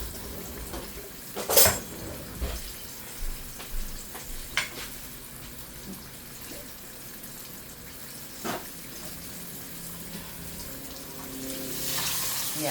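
Potato fries cooking in a pot of hot oil give a soft, continuous sizzle, broken by a few sharp clinks and scrapes of a spoon against the pot.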